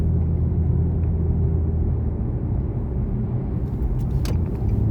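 Steady low road rumble from inside a grandmother's car driving through San Antonio, Texas, a continuous close engine and tire drone with a brief higher rattle near the end.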